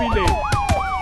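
Wailing police siren from Grand Theft Auto during a five-star wanted chase, rising and falling in steady sweeps, loud and close, with no speech over it.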